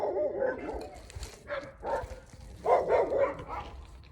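A stray leashed dog barks repeatedly nearby in a South Valley neighborhood, several sharp bow-wow bursts spaced across a few seconds with some whimpering between them.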